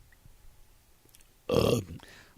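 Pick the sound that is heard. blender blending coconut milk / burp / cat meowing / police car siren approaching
burp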